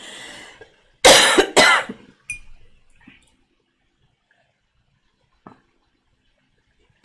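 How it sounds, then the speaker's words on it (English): Two sharp, loud coughs close to the microphone, followed by a few faint clicks and quiet pauses. "trying to get my cough under control here"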